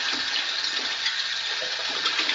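Water pours steadily for drinking, a continuous hissing, splashing gush heard close up and alone, with no voices.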